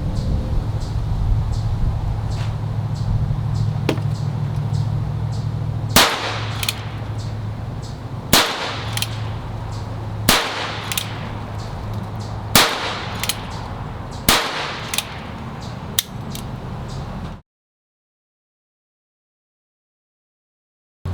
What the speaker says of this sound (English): so just fired 6 rounds